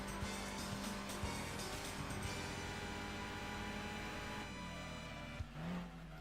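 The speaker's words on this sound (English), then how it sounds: "driving my Toyota Celica" Toyota Celica race car in the Gran Turismo 2 video game, with a steady engine drone and gear-shift rises running continuously throughout, the car close and fairly loud, no talk.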